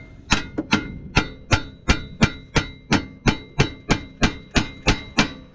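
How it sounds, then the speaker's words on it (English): A hammer repeatedly smacks the side of a car's tie rod end, about fifteen sharp metallic strikes at a steady, even rhythm, loud and close with no talk. "And then you want to get a hammer and you can smack right here on the side of it."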